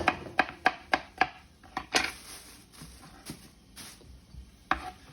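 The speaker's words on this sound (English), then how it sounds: "I'm already cutting my zucchini" A knife chops through zucchini on a board in a quick run of sharp, close taps, followed by slower, more scattered cuts.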